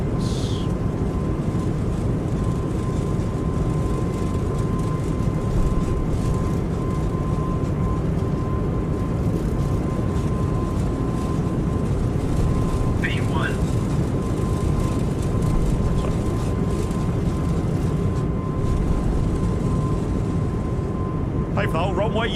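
An Airbus A220 starts its takeoff roll in a flight simulator game, producing a loud, unbroken engine and rumble drone for the whole stretch, with cockpit voices talking at times.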